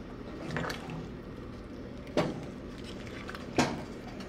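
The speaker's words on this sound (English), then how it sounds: "I'm just going to stir it so everything is nicely mixed in there" Pumpkin soup stirred in a pot, soft wet squishing and a few distinct clinks of the spoon against the pot spaced a second or so apart, quiet and close.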